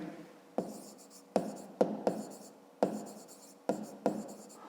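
A pen writes on paper during a fifth-grade math exercise, producing about eight close, distinct scratching strokes in an uneven rhythm, each with a sharp start that quickly fades.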